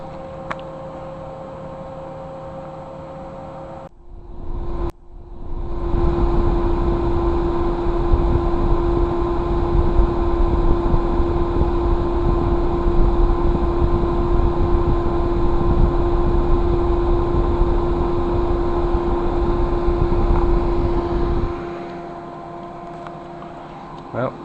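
A PC with two SLI-linked 8800 GTX graphics cards running, a steady loud whooshing fan roar with a constant whine that swells after a short gap and drops back to a softer hum near the end.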